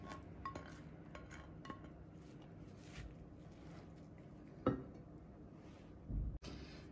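Grated apples go into a pan with quiet clinks and scrapes of utensil on metal, a few sharper knocks near the end, over a low background hum.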